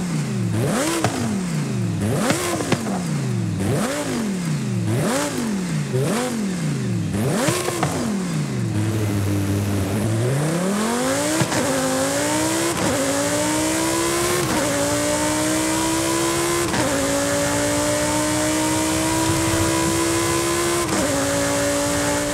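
Lamborghini Huracán STO V10 in the video game Forza Horizon, revving repeatedly in sharp rising-and-falling bursts, then held at a steady high drone with brief gear-change dips; loud and close, no talking.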